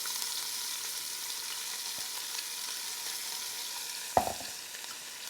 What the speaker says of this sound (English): we're going to saute our vegetables now. So we have our onions.